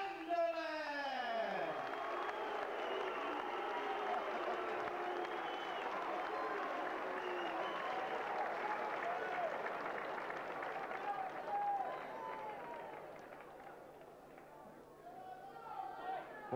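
A boxing crowd in an arena reacts to a heavyweight fighter's ring introduction. Sustained applause, cheering and chatter swell loudly and then ease off slightly toward the end.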